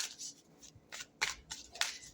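Tarot cards being shuffled by hand, heard as several soft, papery riffling bursts at an uneven rhythm, fairly quiet and close, with no talking.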